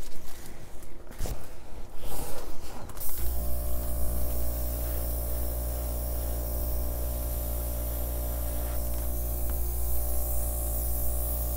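An airbrush sprays acrylic paint onto a flip-and-drag acrylic pour with a steady, loud hiss, after a few seconds of scraping and handling noises.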